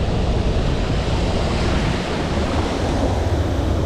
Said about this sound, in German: Ja, Wasserfall.